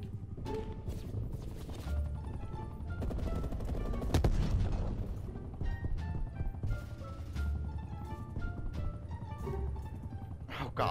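Gunfire in the Call of Duty Cold War VIP escort mode, bursts of shots crackling over a dense game soundscape of mechanical clatter, with someone speaking now and then.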